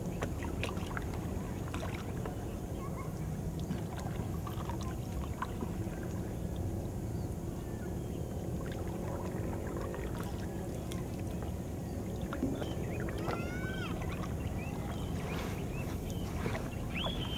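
A wooden rowing boat (bangka) moves across the water, with a steady low wash and splashing that runs continuously at moderate level, plus some faint background sounds.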